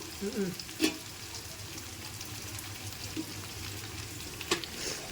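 Green chillies and onions sautéing for mushroom biryani, a faint steady sizzle with a few sharp scraping stirs and clinks, quiet and close.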